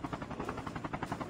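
A helicopter in a video game, its rotor giving a steady rhythmic chop that repeats a few times a second at a fairly even level, heard briefly with no talk over it.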